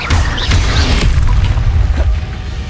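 A Confringo fire spell in Hogwarts Legacy bursts with a loud booming blast, followed by a rumbling, crackling tail amid continuous combat noise.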